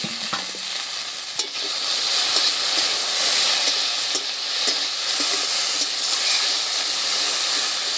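Taro stolons and Bombay duck fish fry in an uncovered pan, giving a loud, steady sizzle and hiss throughout, with a brief clatter of stirring near the start and no talking.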